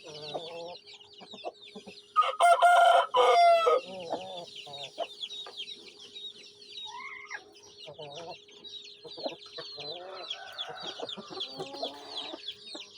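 Home-bred Aseel chickens and their chicks fill the air with constant high peeping, scattered clucks and a loud burst of crowing and squawking early on, all close and busy with no talking.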